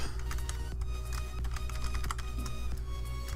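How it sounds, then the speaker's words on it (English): Steady clicking of a computer keyboard as someone types a login in a quiet room, keystrokes close and fairly even with brief pauses, under a low constant background hum. "If I can type."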